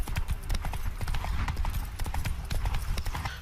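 Horse hooves clip-clop in a steady, rapid rhythm during mounted combat in The Witcher 3 Wild Hunt, the loud hoofbeats continuing throughout over low rumbling game sound.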